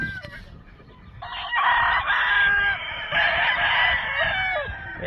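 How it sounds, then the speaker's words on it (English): A Jap McRae rooster crows loudly and close, a long sustained call in two strong surges with no talking over it. "I just sold this rooster right here. One of my McRaes."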